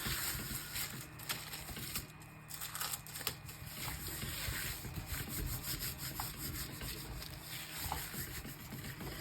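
Metallic paint is rubbed into the small openings of a stencil, giving a faint, steady scratchy scrubbing with short strokes, close and continuous without talk.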